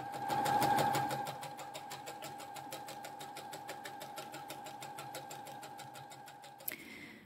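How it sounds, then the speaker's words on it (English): Sewing machine stitching fabric along the edge using the 3/8 inch mark of the presser foot, a rapid even mechanical chatter running steadily for several seconds before stopping with a small clunk, no talking. "I'm now using the 3/8 bit of the foot"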